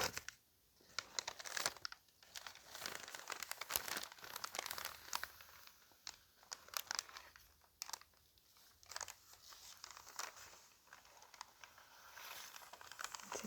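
A sheet of paper is crinkled and crumpled by hand up close, giving bursts of crisp crackling and rustling with short pauses between handlings, all without any voice.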